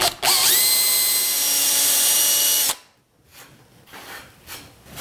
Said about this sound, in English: I'm just going to drill some holes. These are going to be pilot holes for my screws.